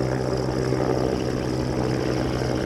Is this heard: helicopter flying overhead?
yes